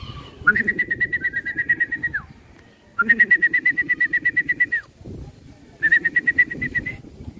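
Racing pigeons return to a loft after a summer race released from Pagbilao, Quezon, with repeated loud rhythmic cooing in three bursts close by, while someone talks over them.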